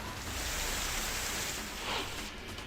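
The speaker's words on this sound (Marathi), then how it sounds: "कर्जत तालुक्यातील मिरजगाव परिसरात ढगांच्या गडगडाटासह अचानक जोरदार पावसानं हजेरी लावली." Heavy rain pouring down in a thunderstorm near Mirajgaon, a dense, continuous roar of rainfall at moderate level with no distinct thunderclap standing out.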